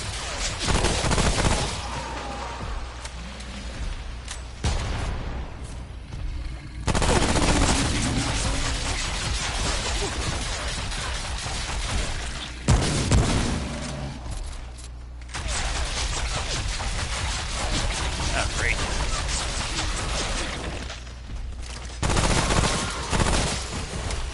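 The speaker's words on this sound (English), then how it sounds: "He's bit apart and getting good damage with the shotgun." Shotgun blasts in the video game Remnant: From the Ashes, fired at a root brute: loud, dense bursts of gunfire that repeat in several clusters over sustained game action and noise.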